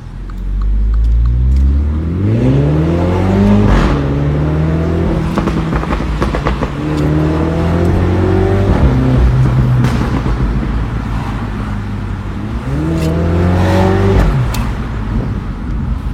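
A Mini Cooper JCW engine revs hard and loud in three rising surges, its pitch climbing steeply each time and then dropping back to a rumbling idle between pulls, with no voices over it.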